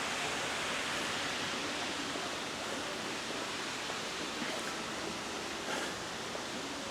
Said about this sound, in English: This water coming down.